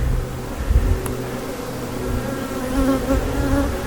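Honey bees buzz steadily in a bee yard on a mild May day, a dense, continuous hum that swells slightly and comes close to the microphone, with no talking.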